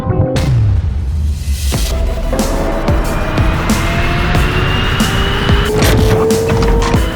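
A Hyundai RN22e electric race car drives at speed, its rising electric motor whine and tire roar loud and close, with thumps and bursts layered over a steady surging drone.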